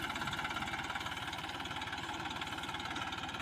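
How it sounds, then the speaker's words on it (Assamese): A tractor engine runs close by in a village field, a steady rhythmic low chugging idle with fast regular pulses and no voices. "এতিয়া ট্ৰেক্টৰ আহিলে।"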